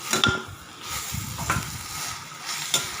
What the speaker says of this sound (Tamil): நல்லா மீடியம் ஃப்ளேம்லேயே வச்சு நல்லா தக்காளியை வதக்கி விட்டுக்கோங்க